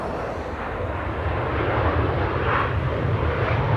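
Airliner at Amsterdam Schiphol Airport, a loud, steady jet engine roar heard from a distance and building slightly without speech.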